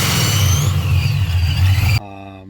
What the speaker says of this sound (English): Just revving the motor was a lot cleaner.